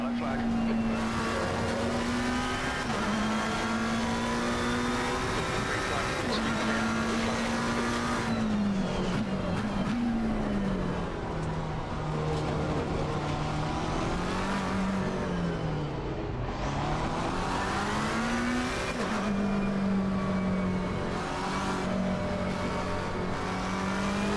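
A McLaren 720S GT3 race car in the Assetto Corsa Competizione game drones loudly and continuously, its engine pitch rising and dipping through shifts and corners with occasional tire squeal, while a voice talks over it.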